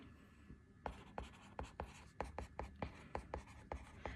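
Pen tapping and scratching on paper in short, regular strokes while a tax calculation is worked out, close and clear, with a quiet voice speaking underneath.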